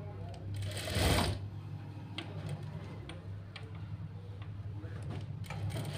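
A sewing machine stitches a fold while attaching a readymade dress sleeve, its steady rapid ticking whir running close and quiet throughout, with a brief louder rustle early on and some talk over it.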